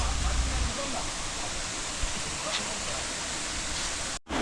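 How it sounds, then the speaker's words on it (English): Sheldrick Waterfalls in the Shimba Hills on the Kenyan coast, where a river runs toward the Indian Ocean, pours as a steady broadband roar of falling water, loud and continuous with no clear speech. "Guys, we are finally at Sheldrick Waterfalls, as you can see"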